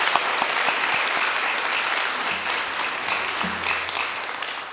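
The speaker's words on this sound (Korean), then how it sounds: "격려의 박수를 부탁드리겠습니다" Church congregation in a Korean church service applauding, a dense, steady clapping that carries on for several seconds before slowly fading near the end.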